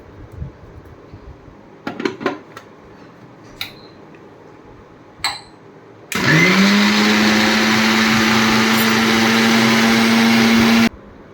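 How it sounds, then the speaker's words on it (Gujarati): A mixer grinder blends pani puri water with pani puri masala into a green liquid, starting with a few light kitchen clinks before the motor kicks in loud and steady for about five seconds, then cuts off abruptly. "હવે એને પીસી લેશું આપણે"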